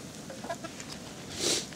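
Chickens cluck softly nearby outdoors in cold, stormy weather in a short, low burst of muttering calls, with a brief louder squawk near the end.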